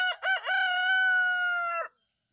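A rooster gives one loud, close crow, a couple of short opening notes and then a long sustained call that cuts off cleanly into silence.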